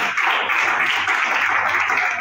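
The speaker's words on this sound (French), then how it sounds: "Applaudissez!" An audience at a live public debate bursts into dense, continuous applause, a steady wash of many hands clapping without pause.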